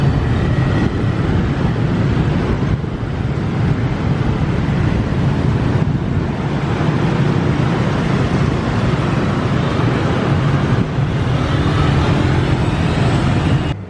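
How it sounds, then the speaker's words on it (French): Dense, steady roar of heavy street traffic in Ho Chi Minh City, a continuous loud wash of engines and road noise with no clear pauses. "Regardez cette circulation de malade. Et ça, c'est tout le temps en fait."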